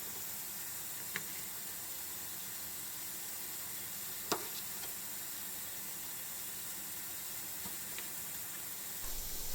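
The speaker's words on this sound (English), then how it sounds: "Heat a small amount of oil in a frying pan and start frying the vegetables." Steady broadband sizzle of bite-sized vegetables frying in a small amount of oil in a frying pan, continuous and moderately loud, with a few faint clicks and utensil taps.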